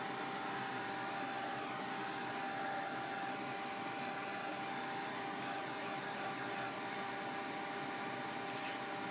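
A heat gun blows hot air over watercolor paper with a continuous, steady rushing whoosh that stays level and fairly faint throughout, with no voices.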